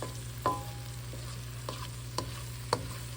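Onions frying in vegetable oil in a pan while cooking smothered beef neck bones, a low steady sizzle with a few sharp clinks of a utensil spaced out over the stretch, fairly quiet and with no talking.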